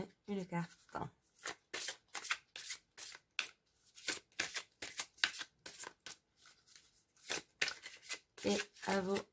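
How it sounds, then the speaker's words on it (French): Tarot cards shuffled close up for a reading, a long series of crisp riffling bursts and flicks in quick irregular rhythm, with someone speaking briefly at the start and end. "on va aller tirer une carte."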